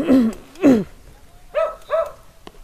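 A dog barks and yelps in four sharp bursts, two loud ones close together, then two higher, shorter ones, with a faint click at the end.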